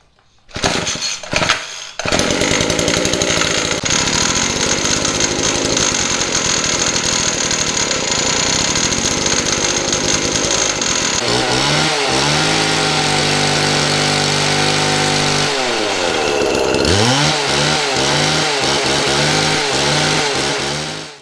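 Small gas engine of an old Craftsman hedge trimmer sputtering to life after a few pulls, then running loud and continuous with a buzzy two-stroke drone, revving up and down several times near the end.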